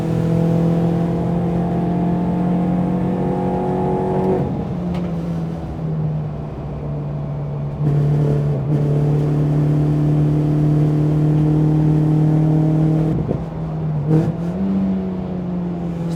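A race car engine on a UK track, loud and close, revving with a steady droning pitch that drops sharply at gear changes around a few seconds in and again near the end, with no talking.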